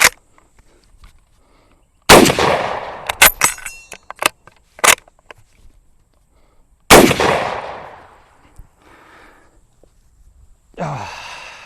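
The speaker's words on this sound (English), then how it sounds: "So I'm going to try to shoot these last 3 rounds kind of fast" A carbine firing its last few rounds quickly, heard as sharp loud blasts with a cluster of snappy cracks and clacks between them, followed by another heavy blast and a brief breathy exhale.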